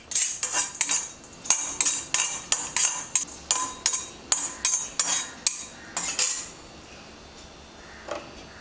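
Tamarind and asafoetida being lightly roasted in a pan, a utensil striking and scraping the metal in a steady run of about fifteen sharp clinks before falling quiet, with one faint knock near the end.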